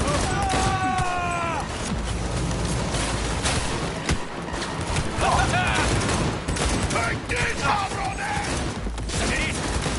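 Gunfire during a Cyberpunk 2077 firefight, rapid bursts of shots and mechanical clatter over busy game noise, with voices talking throughout.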